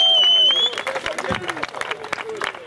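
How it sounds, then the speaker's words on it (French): Audience applauding the stage winners at an Esprit Beach event in Mauritius: a burst of clapping and cheering with crowd noise, loud at first, while a voice speaks over it amid music-like tones. "Allez, on les applaudit bien fort"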